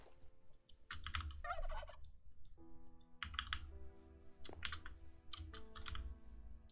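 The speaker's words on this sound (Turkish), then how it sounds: "Evet, hindimiz var galiba buralarda bir yerde." Turkeys gobble in Minecraft with the GregTech 6 mod, bursts of warbling calls over clacking computer keyboard typing, with no speech.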